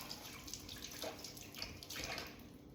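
Tap water runs steadily over garlic cloves being rinsed in a kitchen sink, a continuous close splashing wash lasting the whole moment with no talking.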